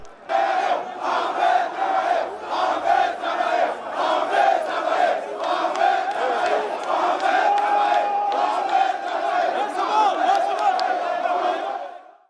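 An agitated crowd of artisans shouts continuously, a loud, dense roar of many overlapping voices with chant-like surges, sustained throughout before cutting off at the end.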